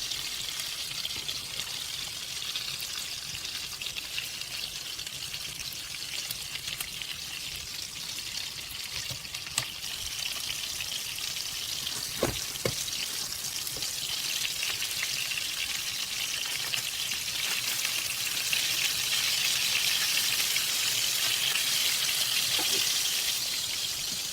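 Mahi fillets searing in a hot frying pan give a steady, close, bright sizzle and crackle, holding evenly and swelling slightly toward the end, with a few faint clicks.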